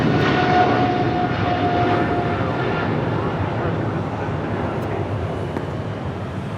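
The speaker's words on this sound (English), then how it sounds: "I got the 777 now rolling down, 25 right." A Boeing 777 rolls down runway 25 right at Los Angeles International Airport, a steady, loud jet-engine roar that fills the air and eases off slightly as it moves away.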